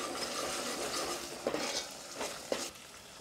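Ginger garlic paste fries in a pan over a medium flame, giving a soft steady sizzle broken by a few scraping stirs of a utensil against the pan, close and fairly quiet with no talking.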